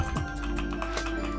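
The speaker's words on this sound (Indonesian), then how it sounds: "Dan ini bunyi brown." Keystrokes on an Armageddon SMK12R mechanical keyboard fitted with brown switches, a steady run of close, fairly soft clicks over a constant low hum.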